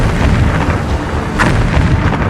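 Heavy, continuous rumbling booms and blasts roll through the clip, loud and dense, as explosions strike Pakistani air bases, with no one speaking.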